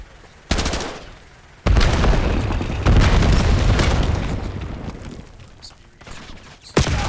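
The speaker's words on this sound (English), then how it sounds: "red EMP grenade incoming!" Call of Duty gameplay: a sharp pop followed by a loud EMP grenade blast and sustained rumbling, crackling burst that fades, then another sharp crack near the end.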